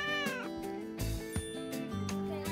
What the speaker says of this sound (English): Brrr, meow.